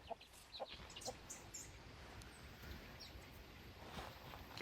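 Chickens clucking at a simple homemade coop beside their outdoor pasture area, with scattered short calls over steady ambient farmyard noise, no talking.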